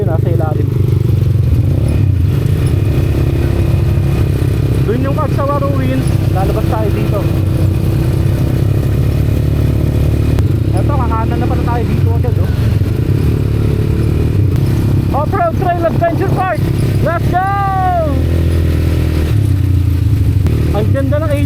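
A steady ATV engine runs loudly and continuously throughout on a trail near Mayon Volcano, with occasional voices talking over it.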